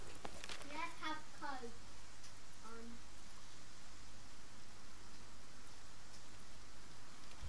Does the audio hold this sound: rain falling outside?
yes